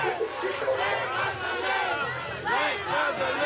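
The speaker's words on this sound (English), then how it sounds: "The crowd is chanting, "Let Gaza live."" A dense protest crowd on a New York City street chants in unison for Palestine, voices rising and falling in a rhythmic, continuous roar close by.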